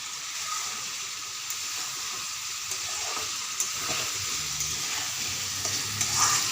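Egg added to cooked masala sizzles and fries in a pan, with a steady loud hiss and scraping stirs and small clinks throughout.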